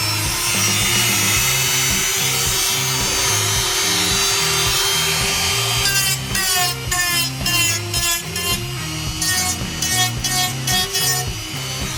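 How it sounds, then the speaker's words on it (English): A Dremel fitted with a circular cutter disc grinds into a foam housing for an RC surfer, a loud, steady high-pitched whine with a rough cutting rasp, breaking into short repeated bursts in the second half. "I'm going to take the circular cutter disc on the Dremel and just clean it out to the actual profile line"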